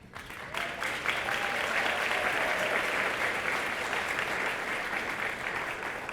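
A banquet audience applauds an honoree at a women's awards dinner, dense sustained clapping from a large crowd holding steady at full strength throughout.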